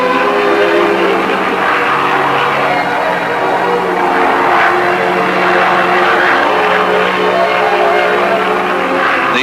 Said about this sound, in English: the plane gradually climbs to the elevation required for the particular photographic information it must obtain